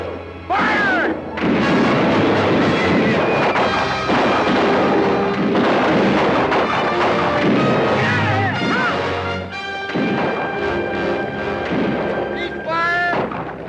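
Heavy rifle volleys and booming cannon fire in a 1964 western cavalry battle, loud and continuous, layered with shouting voices and horse cries throughout.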